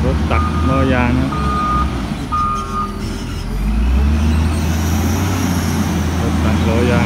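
A wheel loader at a site in southern Thailand reverses with a steady repeating backup beep over a loud diesel engine rumble and nearby traffic noise.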